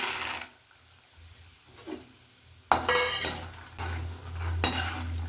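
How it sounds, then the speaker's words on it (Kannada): Raw peanuts poured into a pan for roasting, landing in a few loud rattling bursts of scattering and clattering, separated by quieter stretches with a low background hum. "ಕಡಲೆಕಾಯಿ ಬೀಜನ ತೇರಿಸ್ಕೊಳ್ಳೋಣ ನೋಡಿ ಇಷ್ಟು ಹಾಕ್ಕೊಳ್ತಾ ಇದ್ದೀನಿ ನಾನು"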